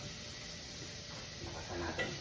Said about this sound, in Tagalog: So, gigisahin na natin itong ating mga spice.